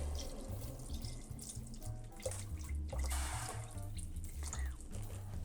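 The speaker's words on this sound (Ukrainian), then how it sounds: "І тепер сюди ми з вами додаємо воду." Water streams from a tap into a pot for mushroom soup, a steady splashing pour with gurgling, heard close up and fairly quietly.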